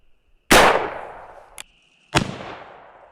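A Winchester Model 53 rifle firing 25-20 WCF cast bullets, one loud sharp crack with a long decaying ring, then a small tick and a second sharp report, outdoors with no talk.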